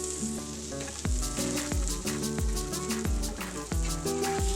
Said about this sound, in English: Let that sizzle, baby.